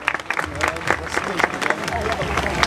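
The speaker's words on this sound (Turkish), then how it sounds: "Evet, alkışlıyoruz." Guests at a Turkish civil wedding ceremony break into applause, a dense, crackling stretch of clapping mixed with crowd murmur and voices.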